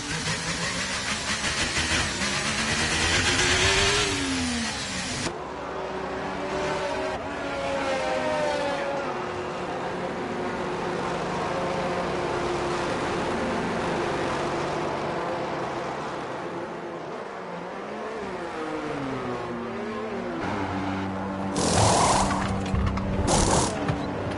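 An F1 car engine in the F1 23 racing game at Belgium, revving high and climbing repeatedly through gears with rising, sweeping whines. The engine is loud and continuous, then a sharper burst of noise near the end.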